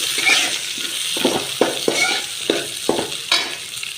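Cabbage, carrot and beans sautéed in oil in a pan, a steady close sizzle broken by several rhythmic scraping stir strokes of a spoon; no one speaks.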